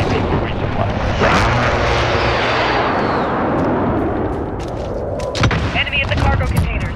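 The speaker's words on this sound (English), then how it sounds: "Be advised, enemy position airstrike inbound." Video game airstrike on an enemy position near cargo containers: a sustained, loud roar of explosions and rumbling blasts lasting throughout, with sharper bursts late on.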